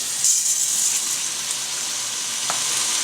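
Onions, arborio rice and garlic sauté in olive oil in a pot, a steady bright sizzle and hiss close up with a faint stir tap near the end and no speech.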